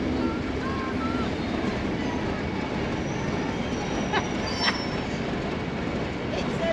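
A diesel engine rumbles past at a railway station, a steady broad rolling drone with faint wheel squeals and a couple of brief clanks, no voices.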